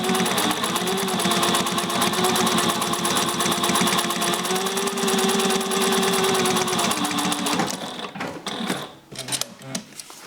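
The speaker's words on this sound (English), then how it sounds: "20 layers of Cordura. If you ever want to sew through all of that" A Juki 1541S industrial walking-foot sewing machine drives through 20 layers of Cordura, its needle mechanism clattering in a fast steady rhythm up close and loud, then slowing into a few uneven knocks as it stops.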